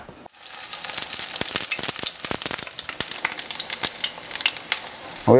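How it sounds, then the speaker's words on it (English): A coconut-flake coated fillet fries in hot oil on the stove, a loud, continuous crackling sizzle with dense popping throughout. "We're frying these till they're golden brown."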